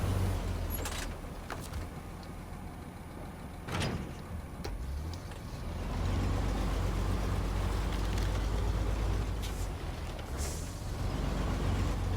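An American truck in SnowRunner rumbles with a low steady engine drone, broken by sharp hisses of air brakes early on, then the engine note swells and holds, loud and close with no talk.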